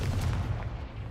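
A Confringo fire-blast spell cast in Hogwarts Legacy, a deep booming burst with a sustained rumbling low roar throughout, loud and dense.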